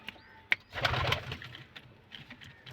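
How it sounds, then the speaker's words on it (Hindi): A female Madina breed pigeon coos softly and close by after a single sharp click, her low, rolling coo fading into quieter murmurs. "ये हाथ चुटकी जब बजाती है गुडकने लगती है"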